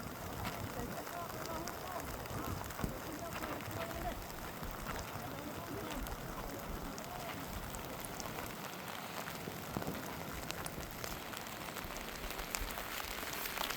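Rain falls outdoors in upland countryside near a river during Typhoon Kristine, a faint, continuous patter and hiss that runs throughout, with voices speaking over it at times.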